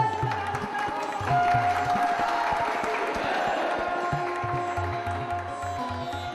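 Devotees applaud at a Hindu temple ceremony as sacred Kalasha pots are set on a podium, a steady crowd clapping mixed with rhythmic drumming and temple music throughout.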